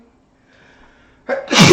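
A single sharp sneeze bursts out loud and close near the end, after a stretch of near silence with faint murmuring.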